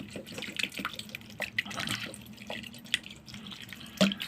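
Water poured over chopped pieces of banana flower in a kitchen bowl, heard as soft, irregular splashing and trickling with a few brighter drips, fairly close and alone without any talk.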